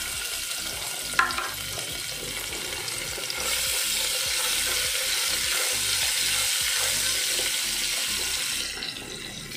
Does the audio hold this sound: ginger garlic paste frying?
yes